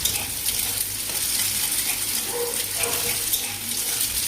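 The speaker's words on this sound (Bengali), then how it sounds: "ভালো করে ডিমটাকে নাড়াচাড়া করে নেওয়ার পরেই সবজিগুলোকে দিয়ে দেবো আর সামান্য নুন দিয়ে ডিমটাকে নাড়াচাড়া করে নেবো।" Eggs with chopped vegetables including beans being stirred and fried in a pan, a steady close sizzle and crackle with occasional scraping of the spatula, continuous throughout.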